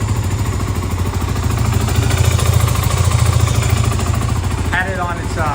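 A 2008 Kawasaki KFX 450R ATV engine idles close by with a steady, loud, even chugging that runs throughout, while a short burst of another sound rises briefly near the end.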